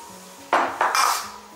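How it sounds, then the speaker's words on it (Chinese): Clattering bursts of a wok and utensil as chicken legs are stir-fried, three close, loud scraping clanks in quick succession over a quiet kitchen background, with no talking. "给它翻炒个一分钟左右，接着往里面加入点开水"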